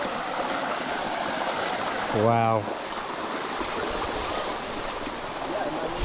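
Water pours steadily over a slippery waterfall and along a stream, a loud continuous rush close to the microphone. One voice briefly exclaims over it partway through.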